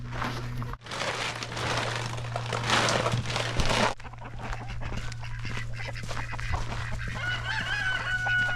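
Chickens cluck and a rooster crows on a homestead farm alongside ducks, a busy overlapping flock heard up close with a steady hum underneath.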